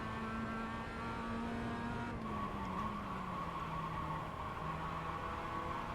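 A Mazda MX5 race car at Oran Park in iRacing spins out amid a continuous engine drone whose pitch sags and wavers, with a brief tyre scrub in the middle, steady and moderately loud.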